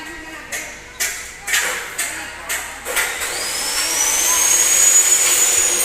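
Engines revved hard at full throttle at a racing event, opening with a string of sharp repeated blips and then building into a sustained high whine that grows steadily louder.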